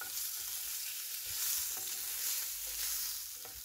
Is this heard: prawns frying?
yes